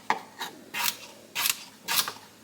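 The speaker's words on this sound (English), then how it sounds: "So I'm just going to cut these up a little bit smaller." Carrots are sliced with a knife on a cutting board for lobster bisque, giving five or six sharp, separate chops at an uneven rhythm, close by and clear, with no talking.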